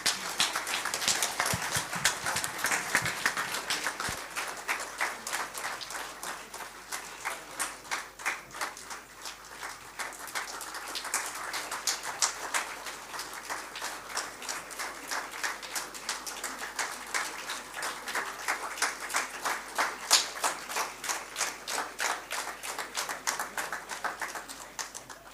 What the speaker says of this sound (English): we can still clap louder.